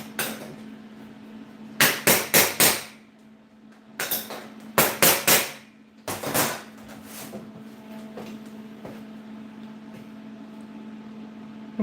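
Several quick metallic taps on a welded 304 stainless steel bar being straightened, arriving in three tight clusters of rapid knocks over a steady low hum, with no talking.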